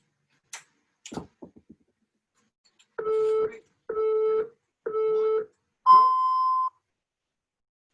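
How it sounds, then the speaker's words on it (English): A workout interval timer beeps in a countdown: three evenly spaced short tones about a second apart, then a longer, higher final tone, loud and close, after a few faint knocks and rustles. "let me make sure my volume's up on the timer so you guys could hear it."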